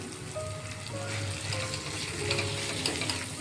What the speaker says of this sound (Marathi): तेल सुटेपर्यंत छानस भाजून घ्यायचं आहे